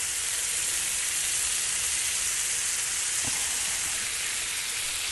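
Pork chops sizzling on a Blackstone griddle, a steady loud hiss of frying fat throughout with one brief thump partway through.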